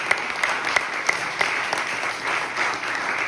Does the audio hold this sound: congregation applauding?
yes